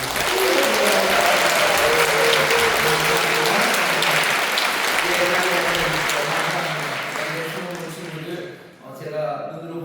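Warm, sustained applause from a church congregation at a Friday night prayer service, encouraging students, many hands clapping steadily while a voice speaks over it, then tapering off near the end as talk continues.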